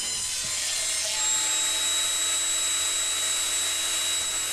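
A table saw rips wooden strips down the middle for French cleats, giving a continuous, fairly loud whining buzz of blade through wood that holds steady from start to finish.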